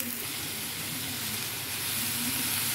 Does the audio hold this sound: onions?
yes